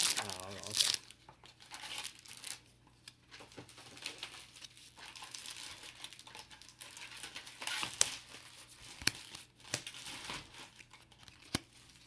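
Date A Bullet Weiss Schwarz Extra Booster packs being torn open, with crinkling foil wrappers and sharp ripping snaps scattered across the clip, close and quiet, alongside faint talk.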